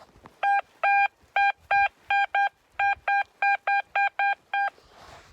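A metal detector sweeping the ground in a Carpathian forest clearing sounds a run of about a dozen sharp, evenly pitched electronic beeps in quick, slightly uneven succession, loud and close, with a soft rustle at the end.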